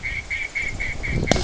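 A mechanical dog-training duck quacker call, used on a simulated goose hunt, quacks in a series of about six evenly spaced nasal honks, followed by a short sharp pop near the end.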